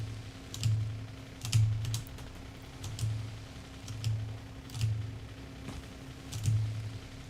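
Keys clatter on a computer keyboard in quick bursts of taps at a steady rhythm, close and moderately loud over a low continuous hum, with no voices.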